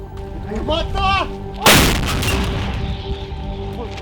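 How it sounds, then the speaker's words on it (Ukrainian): A single heavy artillery gun boom cracks out sharply and rumbles away in wartime Ukraine, after a voice speaking over a radio or nearby. "Це гарматка, яка ну, працює безвідказно."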